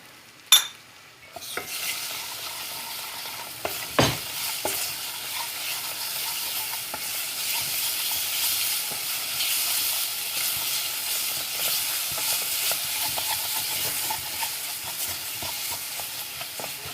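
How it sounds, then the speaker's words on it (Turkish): Tomato paste with spices fries in a pot for Ezogelin soup, a continuous moderate sizzle with a spoon clinking and scraping against the pot, including a sharp knock early on. "Biraz kavuracağız salçanın ekşi kokusu gidene kadar kavuralım"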